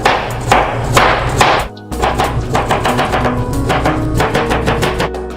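A knife cuts thin slices on a cutting board while vegetarian noodle soup is being made, giving quick, rhythmic, close taps that continue steadily after a brief pause.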